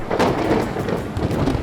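Rumbling thunder from a lightning strike in the video game RuneScape: Dragonwilds, a dense, sustained roll filling the short moment at steady loudness with no voices.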